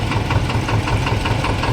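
A tractor idles in the queue at the Kodinar market yard gate on a mung and urad auction day, giving a loud, close, steady diesel rumble with a faint knocking pulse and no voices.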